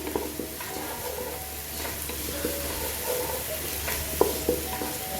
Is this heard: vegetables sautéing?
yes